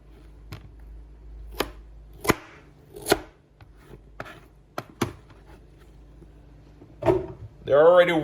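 A knife dices potatoes on a chopping board with several sharp, separate chops at irregular intervals, close and clear, and a voice speaks briefly near the end.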